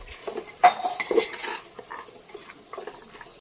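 A spoon stirring homemade biryani masala in a metal pan at close range, giving scraping clinks and soft clattering strokes with a light fry underneath and no talking.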